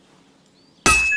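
A sword being forged on an anvil in Kingdom Come Deliverance 2, heard as a single sharp metallic hammer strike that rings out loud after near silence.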